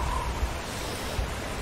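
A waterfall in the horror video game Horror Tales: The Wine produces a loud, steady broadband rush of water with no break and no voices.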